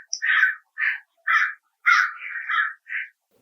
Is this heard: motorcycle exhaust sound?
no